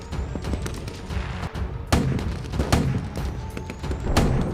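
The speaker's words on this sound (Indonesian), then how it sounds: "Tembakan mulai dilakukan oleh pasukan Belanda." Scattered gunshots crack out irregularly, some sharp and close, others duller and farther off, over a rough rumbling background.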